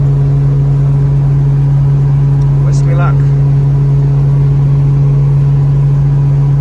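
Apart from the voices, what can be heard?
AWD tuned car engine revving with short exhaust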